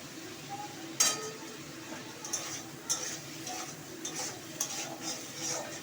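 Tomatoes go into masala frying in a pan, with a soft background sizzle under scattered spoon clinks and scraping strokes of stirring, close and moderately quiet.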